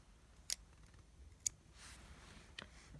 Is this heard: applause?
no